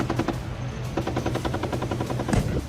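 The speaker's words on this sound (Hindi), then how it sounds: "मिसाइल और भारी तोपों की आवाज से महाजन फील्ड फायरिंग रेंज गूंज उठी।" Indian Army tanks, missiles and heavy artillery fire during an exercise at the Mahajan Field Firing Range near Bikaner, heard as loud, dense rapid-fire bursts repeating in a steady rhythm without any voices.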